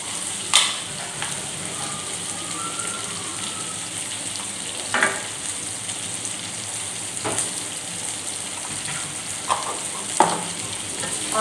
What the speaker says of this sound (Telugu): ఇది మాత్రం స్మూత్గా వేగే వరకు కూడా మనం వేయించాలి